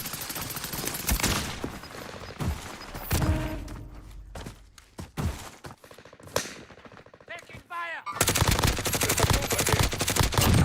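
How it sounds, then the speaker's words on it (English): Video game shooter firefight with bursts of automatic gunfire and grenade blasts, dense and loud, rattling in rapid volleys with heavy thuds, easing briefly mid-clip before erupting again into sustained fire. "So now he's just putting fire down while his teammate gets revived, while Nick Merckx gets revived."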